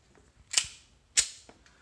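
Two sharp gunshots from a Mossberg MC1 striker-fired pistol, about half a second apart, each a loud crack with a quick fade and no talking.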